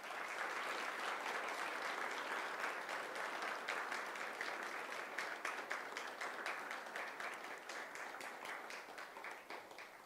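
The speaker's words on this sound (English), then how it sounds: "can we have a round of applause for his courage?" Live satsang audience giving a round of applause, dense steady clapping from a large crowd that holds for about ten seconds and gradually loosens into more distinct claps toward the end.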